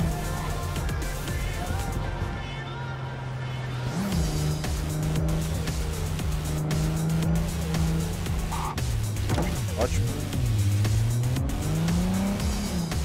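Car in Cyberpunk 2077 driving steadily, a continuous close engine drone whose pitch dips and climbs near the end, with brief tire squeal over a constant loud game background.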